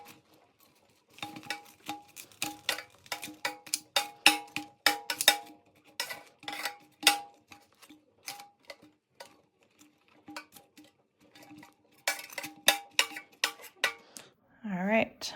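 Chicken wings being flipped one by one in a pan, a quick series of sharp clicking taps and scrapes with short pauses, close and fairly crisp, with a brief voice at the very end.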